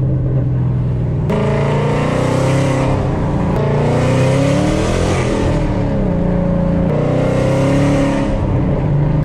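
An engine revs up inside a car, which climbs through the gears with distinct breaks at each shift, including second into third. The note is loud, close and rising with no whine audible.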